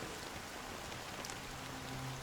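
Steady rain hisses evenly throughout a scene in the video game Honkai Star Rail, a soft, continuous wash of drops with no voices over it.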